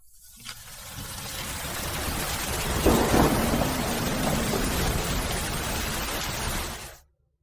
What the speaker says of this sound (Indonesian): Di luar sedang hujan.